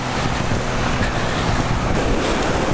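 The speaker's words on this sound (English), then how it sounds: "Baby, it's the sea." Ocean surf rolling onto Santa Monica or Venice Beach, a steady broadband wash of breaking waves with wind buffeting the microphone, continuous and fairly loud with no voices.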